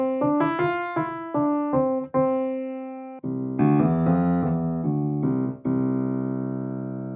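A velvet grand digital piano sample plays a quick run of bright, close single notes, then several sustained chords that ring out and fade, alone with no talk.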